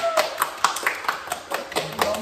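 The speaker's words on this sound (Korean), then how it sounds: "게스트분께 큰 박수를" A small group applauding a guest with a sparse, regular run of close hand claps about every quarter second, fairly loud and without any talking.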